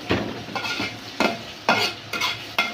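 Carrots and other vegetables sautéing in oil in a pan, a steady sizzle broken by repeated sharp bursts as they are stirred and tossed, with spoon scrapes against the pan.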